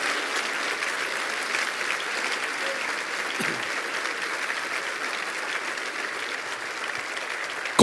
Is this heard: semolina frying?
no